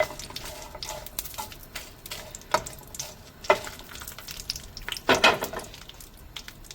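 Chillies frying in hot oil in a pan, a steady crackling sizzle with occasional louder spattering bursts and a few light utensil scrapes, close up and with no talk.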